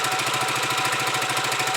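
Huoniao HN125 motorcycle engine idling cold on half choke, a steady, rapid, close-up chugging pulse that stays even throughout.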